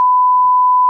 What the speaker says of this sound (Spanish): Habrá puesto Rodrigo un pitido en la palabra